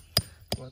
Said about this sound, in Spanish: se le va clavando en ambos lados